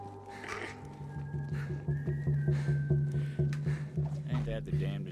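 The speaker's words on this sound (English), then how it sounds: "Someone was whistling." A melodic tune whistled in the Western-themed Bounty of Blood story of the video game Borderlands 3, a steady sustained tone running throughout over a repetitive rhythmic music backing, with a voice speaking beneath it.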